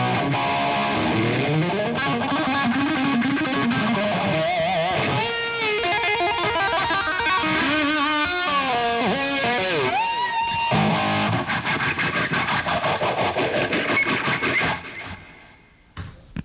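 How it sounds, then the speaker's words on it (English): Electric guitar played through a phase shifter set to its slowest sweep, with a slow swirling whoosh over distorted riffs and bends, loud and continuous, trailing off at the end. "Take the little phase shifter and turn the knob all the way down so the speed goes as slow as it'll go."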